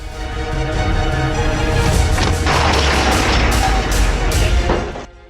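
North Korean Koksan artillery guns fire in a continuous loud rumbling barrage, dense booms blending into a heavy roar that cuts off abruptly.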